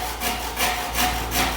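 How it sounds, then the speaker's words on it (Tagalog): A hand saw cuts slowly through vinyl baseboard in steady back-and-forth strokes, a gritty rasping rhythm of about four strokes, close up with no talking. "Dahan-dahan lang yung paglagari natin guys kasi madali itong mabasag."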